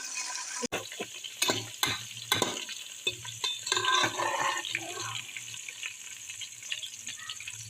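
Raisins fry in hot oil inside a pressure cooker, giving a bubbling sizzle with a burst of spatula clicks and scrapes early on, then settling into a softer, steady crackle.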